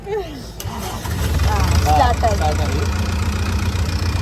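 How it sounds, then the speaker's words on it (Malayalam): A tour boat's engine cranks and catches near the Phi Phi Islands off Krabi, Thailand, settling into a loud, close, steady low rumble while a voice speaks over it. "ഇപ്പൊ ബോട്ടിൽ കയറി ബോട്ട് സ്റ്റാർട്ട് ചെയ്യാൻ വേണ്ടി പോണു"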